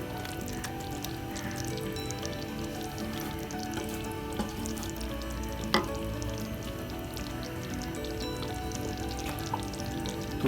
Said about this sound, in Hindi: अच्छी तरह पकोड़ों को मिक्स करने के बाद आंच बंद कर देंगे